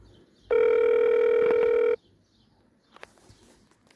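A telephone ring tone heard on an outgoing call to a local police dispatcher: one steady electronic tone lasting about a second and a half, then quiet with faint clicks and small noises.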